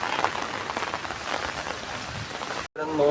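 Rain pours steadily outdoors in a dense, even hiss of drops on surfaces, unbroken and without voices until a brief cut near the end.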